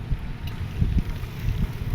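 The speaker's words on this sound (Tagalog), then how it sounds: "Maganda may panahon, no? Kaya mahangin lang talaga." Steady gusty wind buffeting the microphone outdoors at a cemetery during All Saints' Day, a continuous low rumble with irregular thumps and no clear voices.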